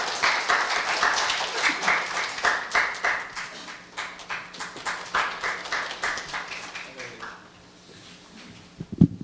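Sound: audience applause welcoming a speaker

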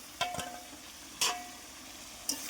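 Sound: fried potatoes added to spice masala, sizzling and stirring

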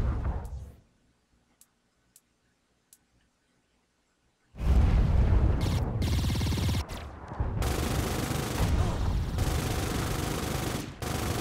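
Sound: gunfire in Saints Row IV video game

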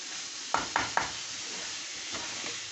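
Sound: chickpeas stirred and sizzling in spiced oil

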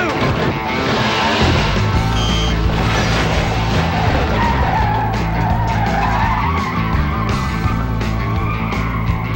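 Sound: car tires spinning and skidding

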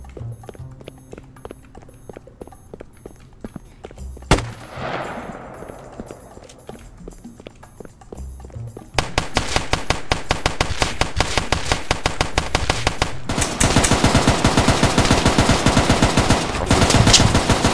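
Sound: machine gun gunfire in Roblox video game

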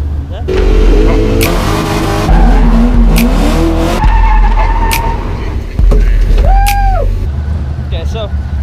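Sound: LS1 drift race car skidding

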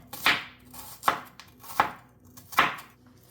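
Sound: chopping a medium onion into small pieces

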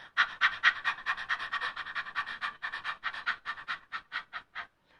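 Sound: people imitating a panting dog

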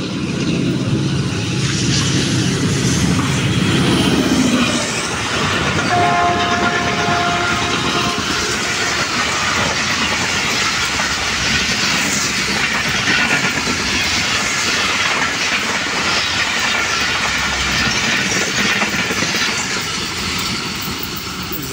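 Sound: Allama Iqbal Express train passing station at 105 km/h, horn

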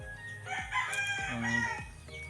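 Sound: rooster crowing

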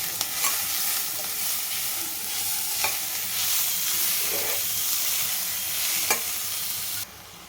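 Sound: grated beetroot being stirred in a pan

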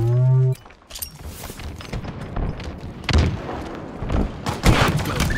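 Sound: gunfire in the video game Halo Infinite

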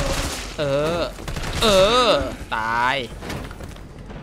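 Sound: gunfire from the video game Resident Evil 3

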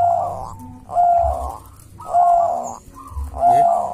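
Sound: zebra dove cooing

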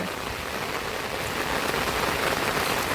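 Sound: rain

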